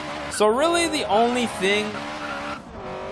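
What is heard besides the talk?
front wheel drive burnout, Honda Civic Type R, Forza Horizon 3 video game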